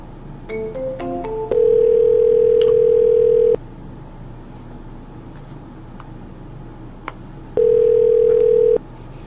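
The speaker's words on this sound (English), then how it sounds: "let's dial out" Telephone dial tone from a computer phone dialer, with short dialing beeps at the start, then a steady tone held for about two seconds, silence, and the tone returning briefly near the end; clear and close.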